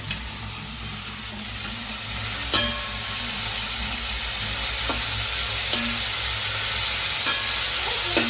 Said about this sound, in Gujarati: તેલ આવી ગયું છે રાઈ નાખી દીધી છે